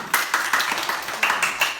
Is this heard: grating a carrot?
no